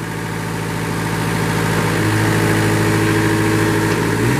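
A Moffett forklift's engine runs at a steady idle while its mast extends and retracts, a close, continuous diesel-like hum with a faint rise in tone partway through, no voices.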